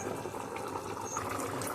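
Potato kurma boiling in a pot on the stove, a soft continuous bubbling and simmer with faint pops, steady and fairly quiet.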